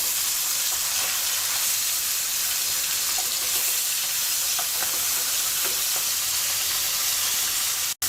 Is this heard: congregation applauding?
no